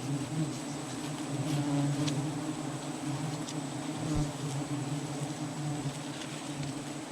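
Giant honeybees swarm and buzz around a wild hive as it is harvested, a steady dense drone close by with a low hum running throughout.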